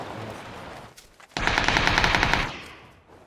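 Automatic gunfire in the battle royale game PUBG: a loud, close burst of rapid shots lasting about a second, preceded by quieter background game noise.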